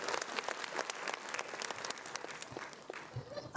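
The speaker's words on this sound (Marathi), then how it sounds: "अश्मिक आनंद कामठेजींसाठी जोरदार टाळ्या झाल्या पाहिजे" A small studio audience at a Marathi podcast about Lavani dance gives a brisk round of clapping, with dense hand claps close by and voices mixed in.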